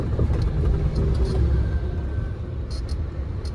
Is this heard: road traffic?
yes